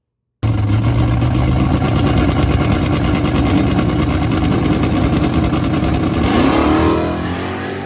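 A drag racing car runs at Texas Motorplex in a big-block naturally aspirated 10.0 index shootout, a loud, steady engine roar rising in pitch as it accelerates, then easing off toward the end.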